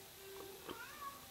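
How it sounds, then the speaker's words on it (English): A house cat gives two or three short, faint meows nearby, with quiet room tone between them. "That's my cat."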